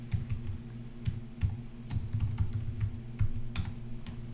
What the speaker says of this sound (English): So if we type in something like Chuck Norris here